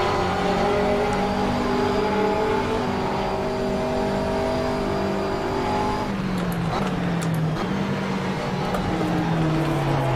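Race car engine in Assetto Corsa droning steadily at high revs, pitch climbing and sliding through gear changes, with a second engine nearby and faint tyre and track noise around.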